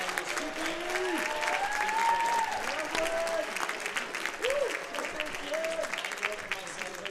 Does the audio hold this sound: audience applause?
yes